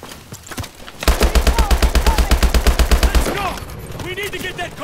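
Rapid automatic gunfire in the Call of Duty Advanced Warfare video game: a loud, steady burst of evenly spaced shots lasting about two seconds, with shouted voices heard over and around it.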